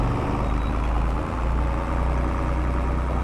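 An old farm tractor's engine drones steadily throughout the ride, a loud low rumble with no talking over it.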